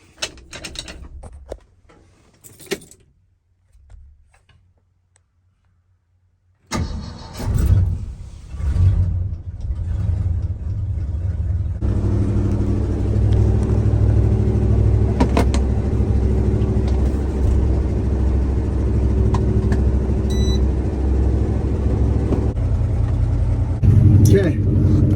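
An old truck nicknamed Myrtle turns over after a quiet pause, then its engine catches and settles into a steady, loud low rumble that holds with a slight stumble near the end.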